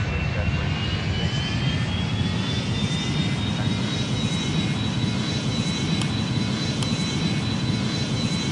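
Steady, loud roar of an A310 airliner's jet engines in the Airline Commander flight game, a continuous broadband rush with a faint rising whine running throughout.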